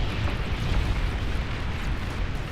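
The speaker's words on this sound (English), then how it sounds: "There are big ass explosions happening to me." Continuous heavy explosions rumble through an RTS battle in Beyond All Reason, a dense, steady low roar of overlapping blasts with no clear gaps, loud and close throughout.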